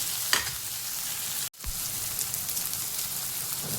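Onion tempering sizzles steadily in hot oil for a Konkani greens curry, a continuous crackling hiss with a brief stir near the start and a short break midway.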